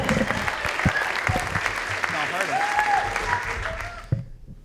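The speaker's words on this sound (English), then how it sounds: "Keep that applause going for our next poet coming to the stage" Teen poetry slam audience at a library in Mill Valley keeps clapping and cheering, a full crowd applause with scattered whoops, loud and continuous before cutting off abruptly.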